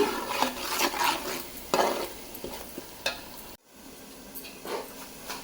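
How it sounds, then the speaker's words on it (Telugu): Onion paste fries in oil in a pan for a chicken curry, with a continuous crackling sizzle and repeated spoon scrapes and stirs against the metal, broken once by a brief near-silent gap. "ఆనియన్ పేస్ట్ వేగుతుంది కదండి"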